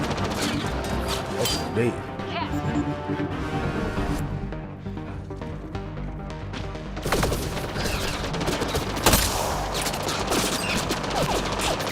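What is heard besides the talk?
gunfire shooting in video game Mass Effect: Andromeda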